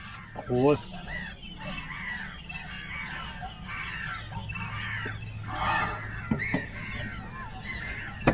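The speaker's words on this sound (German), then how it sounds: "warum die Möwen hier so ein Geschrei machen" Seagulls crowd a narrow anchoring bay while a sailboat lies at anchor, crying and screeching in many overlapping calls, with one loud nearby squawk early on and others carrying on steadily around it.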